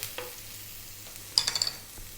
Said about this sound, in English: We're going to start off by dropping in our garlic and ginger.